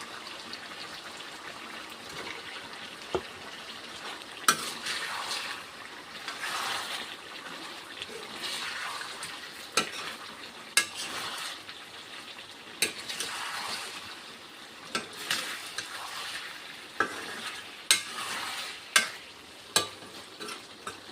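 Spices fry in hot oil in a pan with a steady, moderate sizzle, broken by scattered clicks and scrapes of stirring throughout, heard close with no talking.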